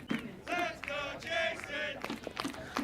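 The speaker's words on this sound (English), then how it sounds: "The call from the crowd going up." A crowd calls out at a local baseball game between the Robina Braves and Nerang Cardinals, several sustained chanting shouts rising and falling in waves, fairly distant and moderately loud.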